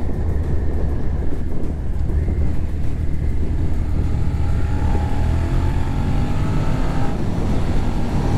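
A 2021 Suzuki SV650 naked motorcycle engine drones loud and steady up close, its pitch climbing as the throttle is twisted open and the revs rise, with no speech.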